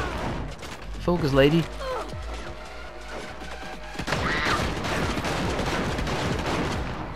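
Gunfire in a Saints Row combat scene keeps up as a dense, continuous rattle of rapid shots and impacts, with a person talking briefly over the din.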